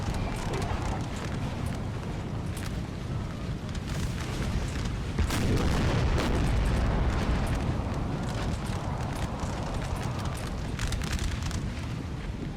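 Distant artillery and musket fire in a Napoleon Total War battle, heard as a steady, crackling din of many booms and pops blended with the rumble of hooves and troops. It stays dense and continuous throughout.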